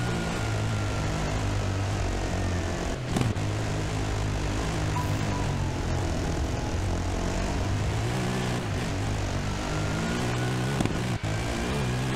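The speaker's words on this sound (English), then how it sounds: "Oh, helicopter's had enough." In the Dakar Desert Rally video game, a helicopter's rotor and engine drone loud and steady for several seconds, a continuous thrumming overhead mixed with quad engine noise and occasional bumps, with no voices.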